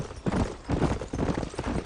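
Horse hooves trot out a quick, steady clip-clop rhythm in Red Dead Redemption, close and fairly loud, with no talk over it.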